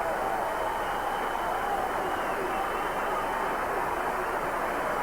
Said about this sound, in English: Hansen gets the applause of the Widnes crowd